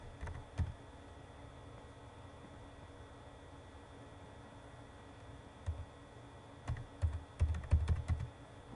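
Computer keyboard keys tapped while text is typed into a PowerPoint slide, a few isolated clicks early on, then a quick cluster of soft keystrokes near the end, faint against a quiet room hum.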